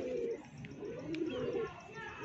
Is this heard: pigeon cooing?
yes